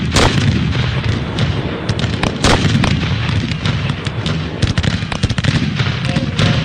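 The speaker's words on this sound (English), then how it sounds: "Francis Scott Key watched from a British warship as the shells and rockets fell on Fort McHenry" Shells and rockets explode in the British bombardment of Fort McHenry during the War of 1812, a loud, continuous rumbling barrage broken by repeated sharp blasts.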